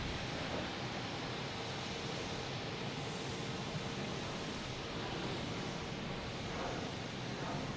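JetBlue jet airliner at Logan Airport, a steady broadband engine roar held evenly for several seconds, fairly distant and uniform with no voices over it.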